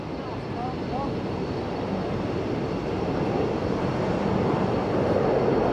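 Two Eurofighter Typhoon jets rumbling on the runway, a steady broad roar that swells gradually louder, distant and continuous with no voices.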